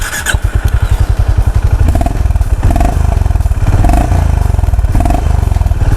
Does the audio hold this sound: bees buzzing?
no